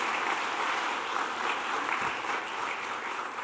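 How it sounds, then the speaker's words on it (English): An audience at a women-in-tech awards ceremony in Iceland claps in a steady, even wash of applause heard from a distance, with no voices over it. "Give a round of applause."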